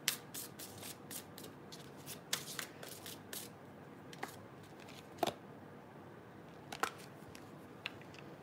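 Tarot cards are shuffled and pulled by hand nearby, giving soft riffling and rubbing with sharp flicks and snaps scattered at irregular intervals, quiet and without talking.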